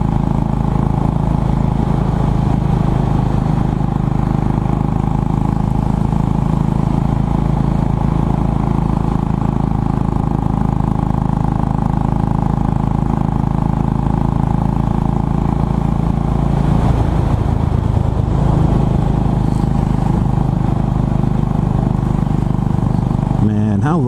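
A Royal Enfield Bullet 500 single-cylinder motorcycle engine drones steadily and loudly while riding, a constant low thrum with a slight shift in tone partway through.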